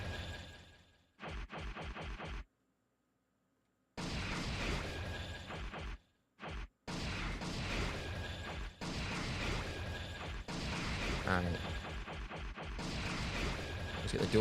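Hand Grenade skill blasts in JoJo's Bizarre Adventure: Eyes of Heaven: a run of loud, booming explosion bursts with crashing debris, broken by a couple of brief silent gaps, with a voice talking over parts of it.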